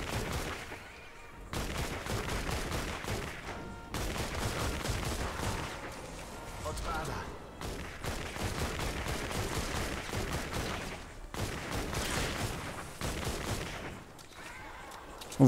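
Traps firing in a video game, a dense run of rapid gunfire-like bursts and blasts that is loud and nearly continuous, with brief gaps between volleys.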